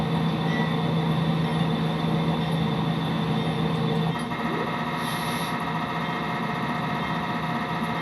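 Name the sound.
locomotive running in Train Simulator video game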